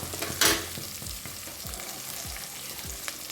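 Goat lungs fry in a pan while being stirred, a close, steady sizzle broken by a sharp burst and repeated scraping stirs of a spoon against the metal.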